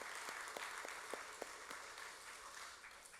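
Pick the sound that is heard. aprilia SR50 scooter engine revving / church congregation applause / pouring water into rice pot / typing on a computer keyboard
church congregation applause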